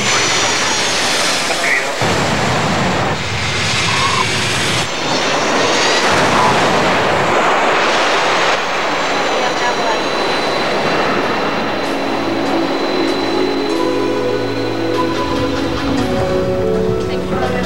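Jet engines of an airliner landing at Santiago's international airport roar loudly inside the cabin, a heavy steady rumble with shifting whine, and voices speak over it.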